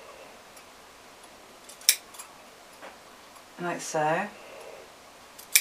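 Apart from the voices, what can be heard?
scissors snipping felt for a Santa bag buckle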